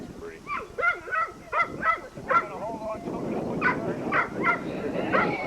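A dog chases birds outdoors in Maryland, giving a quick series of yipping barks and whimpers at close range. Steady noise rises under the later barks.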